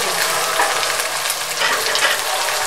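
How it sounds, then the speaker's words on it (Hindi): Minced meat (qeema) sizzles steadily in a karahi with turmeric, a dense continuous frying hiss with faint stirring scrapes, close and loud with no talking. "ये 10 मिनट से हम इसको भून रहे हैं।"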